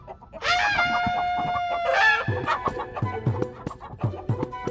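A chicken squawks loudly up close, then settles into a run of quick, rhythmic clucks.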